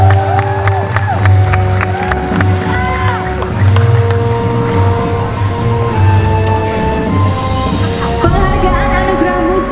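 A crowd applauds and cheers loudly and continuously at the AMI Awards 2015 music awards show in Indonesia, mixed with a music bed and tonal sounds throughout.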